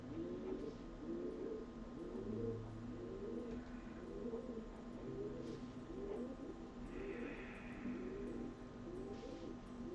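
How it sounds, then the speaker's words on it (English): Bird, likely a dove, giving repeated soft hooting coos at a steady rhythm, about one per second, moderately near and heard alone over a quiet morning background. "Bird hooting again."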